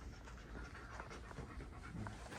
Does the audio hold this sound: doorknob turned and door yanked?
no